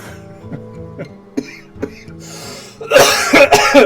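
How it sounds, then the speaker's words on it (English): A few short coughs and throat sounds against a quiet musical background, ending in a louder burst of harsh coughing. "That cough will also not be edited."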